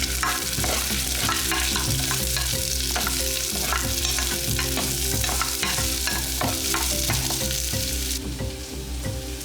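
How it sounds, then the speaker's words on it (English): Aromatics sautéing in a heavy-based pot for a turmeric fish curry, loud continuous sizzling with rhythmic scraping stirs throughout, close and without speech. "Then you're gonna saute all of this together in a heavy base pot."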